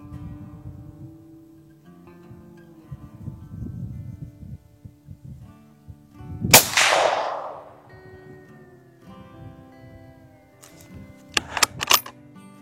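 A stalking rifle fires a single sharp shot at a 50-metre target, loud and close, followed by a brief decaying report, with quieter rustling and a few sharp clicks of handling afterward.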